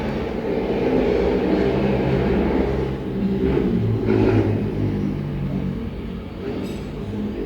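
A motorcycle engine roars close by, swelling as it passes and then fading, a steady broadband rumble with no voices.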